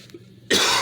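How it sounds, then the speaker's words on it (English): A single abrupt, harsh cough close to the microphone breaks a quiet pause and fills the end of the moment with a loud, breathy burst. "Apologies for the cough."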